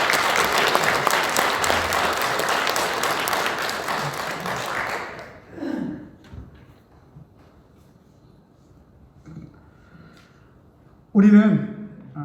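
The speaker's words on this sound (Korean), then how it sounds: "일어나셔서 인사하실 때에 큰 박수 부탁드립니다" A church congregation breaks into dense, loud applause that lasts about five seconds and then dies away. Quiet room noise and brief bits of speech follow.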